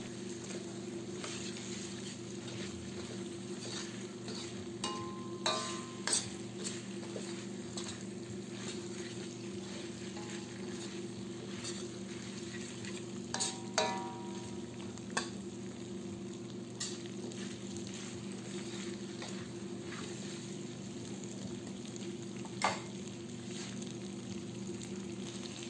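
Chicken and potatoes fry in a pan with soy sauce, a steady sizzle running throughout while a utensil stirs, with scattered scrapes and taps against the pan and no talking.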